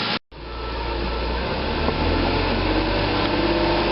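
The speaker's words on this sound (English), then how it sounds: "Let's see if I can race the engine and see if it'll charge a little more." A Lexus IS300 engine running at raised revs, about 2,000 RPM, a steady mechanical roar, loud and close, with a brief dropout at the start then a constant drone.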